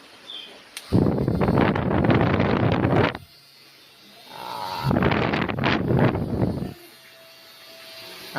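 Air from an electric fan rushes against the microphone in two loud, roaring bursts, each lasting a couple of seconds, separated by quieter stretches.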